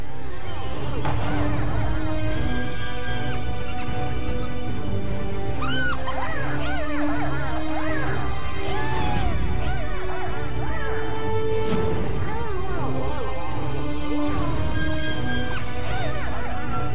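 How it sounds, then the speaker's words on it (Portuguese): A pack of African wild dogs harasses a predatory hyena, giving a dense, frantic chorus of high yips, whines and squeals. The cries overlap continuously at close range over a rumbling background. "Os cães selvagens perseguem uma hiena predadora até ela se afastar dos filhotes."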